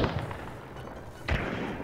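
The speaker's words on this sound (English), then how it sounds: "What's that other gunfire?" Gunfire in Hunt: Showdown: a loud muffled shot booms once near the start, then a second sharp report echoes about a second later over noisy ambience.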